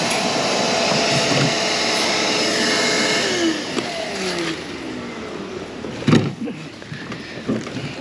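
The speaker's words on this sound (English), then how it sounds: "He's gonna vacuum out the seed, the rest of the seed." A vacuum sucks leftover cotton seed out of a planter on a farm in Alabama, a loud steady roar that eases off partway through, followed by scattered clatter and bumps near the end.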